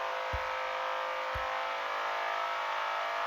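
Car in the racing game Assetto Corsa accelerating hard uphill at high speed, a sustained loud engine drone with a bright high whine, steady and continuous with no gear changes audible.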